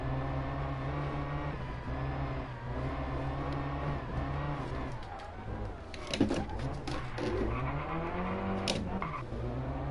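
A rally car in Sébastien Loeb Rally Evo on the Sanremo stages holds a steady engine drone, then snaps through a handbrake skid with sharp scraping bursts and a revving surge partway through, loud and close.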